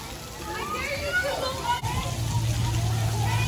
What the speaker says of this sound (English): Taylor all on the sprinkler, y'all.